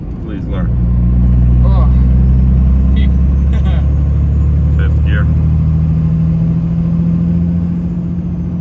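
A car engine runs loud and close in third gear from inside the cabin, a steady low droning hum and rumble that holds throughout, with people talking over it.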